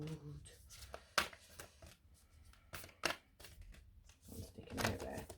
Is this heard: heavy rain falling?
no